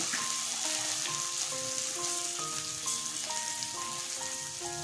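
Masala sizzling and crackling steadily in a pan while being stirred, a continuous dense fry with no talking, for a malai paneer dish.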